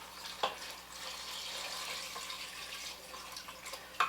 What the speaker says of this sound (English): Now we're going to add beef broth.